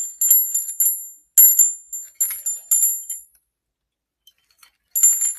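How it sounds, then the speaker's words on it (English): A small vintage glass Liberty Bell rung by hand, bright high tinkling rings in quick repeated bursts with short pauses, close and clear with no voices. "It's the Liberty Bell, and it actually rings."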